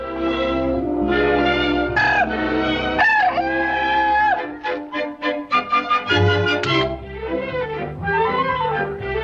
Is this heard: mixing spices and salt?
no